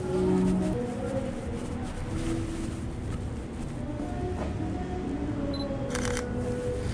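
A camera fitted with a 35mm f/1.4 lens fires its shutter during night-time street photography, giving a single sharp click near the end over a steady hum of street noise.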